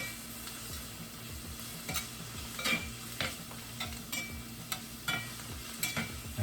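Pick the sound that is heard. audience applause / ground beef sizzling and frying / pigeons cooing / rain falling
ground beef sizzling and frying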